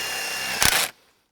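A power drill boring into a hydroponic pole rod, one short whirring burst that rises to a loud peak, then cuts off and fades within about a second.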